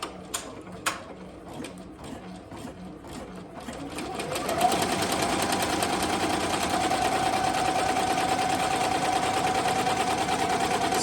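An MT-1501 embroidery machine stitches a fill stitch design, starting with sparse clicks and taps and then settling after a few seconds into a steady, loud, fast mechanical whirring and rattling that continues without a break.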